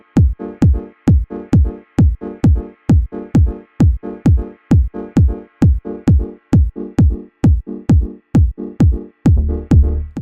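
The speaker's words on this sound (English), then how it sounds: "So the first scene starts with the kick sound and the chord from the drum kit pattern" Punchy electronic kick drum from a Maschine drum kit pattern thumps on a steady beat alongside short stabbed chords, looping evenly for several bars, loud and close.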